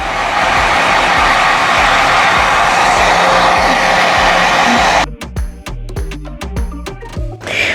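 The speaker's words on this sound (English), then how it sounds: "You use your your blow dryer, put it on cool" A hair dryer roars steadily at close range, then cuts off abruptly, leaving quieter handling noises and faint clicks.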